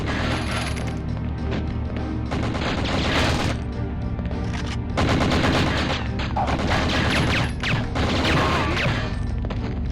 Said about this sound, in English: Oh, I hear they're shooting at her.